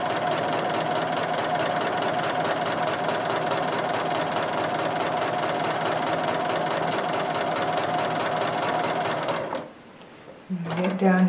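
Sewing machine stitching a quilt along a grid line, a loud steady mechanical hum and rapid needle chatter running nonstop for about nine seconds before stopping abruptly, then a brief restart.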